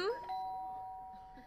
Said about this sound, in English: Oh my god, who ringing the doorbell?